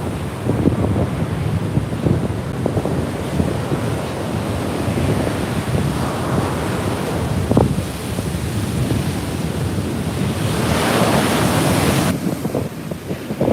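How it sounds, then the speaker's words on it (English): Ocean waves break and roll up the shore at Pacifica beach in California, a loud, continuous surf rush with heavy wind buffeting the microphone and a stronger surge of foaming water near the end. "Okay, here comes the ocean."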